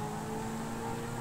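A car engine in a video game hums and revs steadily, a short continuous whir with no speech.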